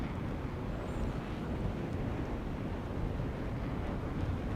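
Steady roar of a propeller plane engine held at full throttle during a zoom climb in a flight combat video game, a broad continuous drone with wind rush that stays even and loud throughout.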